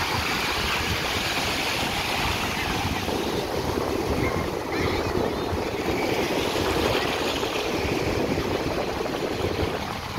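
Sea waves wash steadily onto a beach, a continuous broadband roar with surging swells and some wind buffeting the microphone, loud and unbroken throughout without talk.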